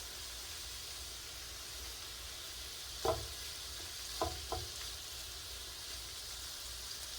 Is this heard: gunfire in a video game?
no